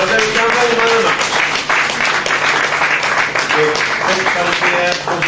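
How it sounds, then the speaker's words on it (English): Crowd applause for the man of the match at an ice hockey game, Hull Stingrays versus Coventry Blaze, a loud continuous wash of clapping with voices mixed in. "round of applause once again for David Campbell, man of the match"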